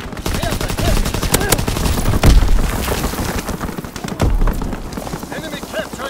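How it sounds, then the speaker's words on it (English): Call of Duty WWII game audio of an enemy aircraft strafing run: dense bursts of gunfire and booming impacts roll over a battlefield din, with an announcer voice calling out alerts over the noise. "Enemy strafing run inbound."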